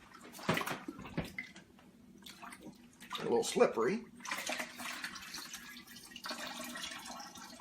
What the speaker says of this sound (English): I've filled my sink with cold water. I'm going to go right in there.